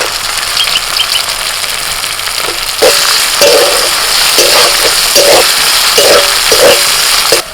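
Onion, ginger, garlic and tomato frying in a pan for a papad curry give a steady, close hiss and sizzle, with occasional soft clatter from about three seconds in.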